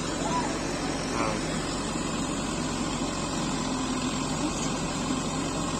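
A JCB 3DX backhoe loader's diesel engine runs steadily at a worksite as it loads soil into a Sonalika tractor trolley, with a continuous low rumble. Faint speech can be heard in the background.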